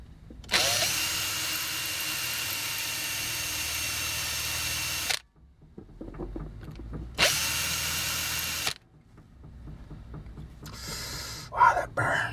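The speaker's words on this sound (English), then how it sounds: "put the drill bit on the outer lip of the rivet on the inside of the arm." A power drill bores out a rivet on the arm of a Takara G1 Transformers Wildrider toy, whining loudly in a long burst, then a shorter second burst, followed by faint handling noises and clicks.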